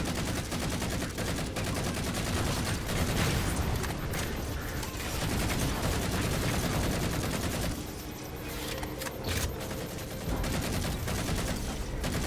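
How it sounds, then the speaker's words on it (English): Sustained bursts of assault rifle fire in Halo 4, dense rapid automatic shots close and loud, running almost continuously with a short lull near the end and overlapping battle noise. "Assault rifle is the weapon of all time."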